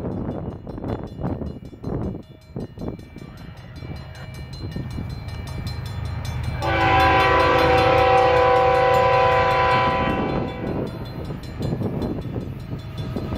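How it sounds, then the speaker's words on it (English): A CN freight train rumbles past close by with rattling cars, and its loud horn blasts for several seconds in the middle before the rolling clatter continues. "CN train 109,"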